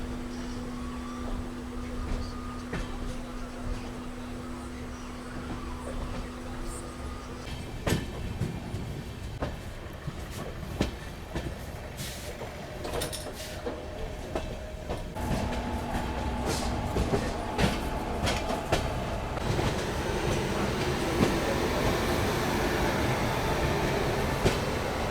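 The Gorakhpur Ahmedabad Express rolls into platform 1 at Mau Junction with a steady, heavy rumble of wheels and carriages, irregular clanks and clicks over rail joints, and a low hum that grows slightly louder as the train draws alongside.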